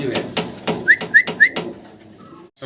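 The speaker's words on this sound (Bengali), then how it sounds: "অসাধারণ সুন্দর এবং বিশাল বিগ সাইজের ভিতরে একটা শৌখিন কবুতর" Large fancy pigeons call nearby, three short rising whistle-like notes over soft repeated cooing and rustling, then a brief quiet gap before a final bump.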